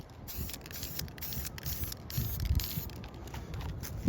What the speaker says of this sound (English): I'm gonna give it a quick spray